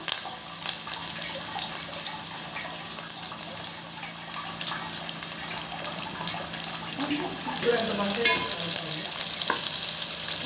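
Green chillies and curry leaves fry in a pan with a steady close sizzle and spitting crackle, stirring scrapes mixed in and a brief rise in the spattering near the end.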